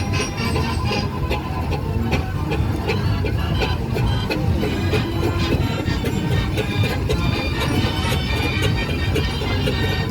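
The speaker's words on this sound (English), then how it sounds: "Another roller coming through." An 1897 Burrell steam roller, built in Norfolk, rolls past at a steam rally with a steady mechanical rumble and a regular, rapid clicking and clattering that continues throughout.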